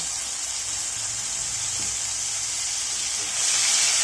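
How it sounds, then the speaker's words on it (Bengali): Ginger, garlic and onion paste hitting hot oil in a pan after fish has been fried, giving a continuous broad sizzling hiss that swells slightly louder near the end, close and steady with no talk. "আমরা যে আদা রসুনের পেস্ট নিয়েছিলাম সেটা দিয়ে দিলাম পেঁয়াজের পেস্ট দিয়ে দিলাম"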